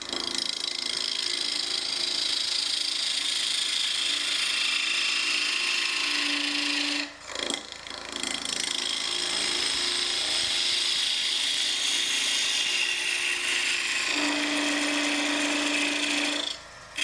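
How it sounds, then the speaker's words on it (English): Wood lathe turning a tenon on boxwood, a continuous whirring hum with a steady scraping hiss of the tool on the spinning wood, close and even, with a brief break and a pitched tone near the end. "I'm going to make a small tenon on both sides of the boxwood."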